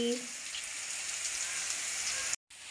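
Broccoli curry sizzles and fries in a pan in a home kitchen, a steady bright hiss filling the moment, with a brief low voice at the start and a sharp cut of silence near the end.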